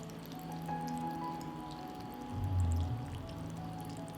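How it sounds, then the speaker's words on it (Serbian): Water pours softly into a pot of layered sarma cabbage rolls, a low gurgling stream that swells briefly near the end, quiet and close with a faint background hum. "i sada ću sipati vodu"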